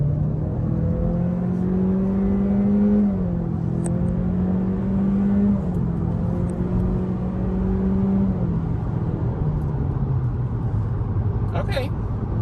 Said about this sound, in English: Now let's put it in sport mode and get a little extra.